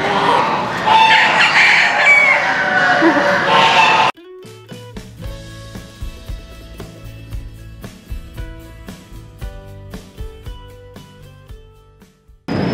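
A flock of chickens clucks and crows in a loud, dense burst of noise, followed by quieter, repeated clucks and squawks from the birds around.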